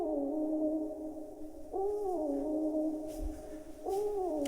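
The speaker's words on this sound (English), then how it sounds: "Then the next one that I added was this Splice chop." A Splice sample chop loops in an Afrobeat-style beat, a sustained vocal-like tone with a rising bend that repeats about every two seconds, quiet and alone.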